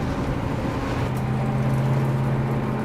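A truck drives at night toward an Iranian border checkpoint, with people hiding in the back. A steady low engine drone carries a faint tonal hum, continuous and even throughout without voices.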